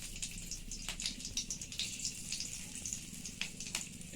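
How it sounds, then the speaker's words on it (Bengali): Dried red chillies and a bay leaf sizzling in hot oil, a quiet steady crackle with scattered small pops close by, no talking. "দুটো শুকনো লঙ্কা দিলাম"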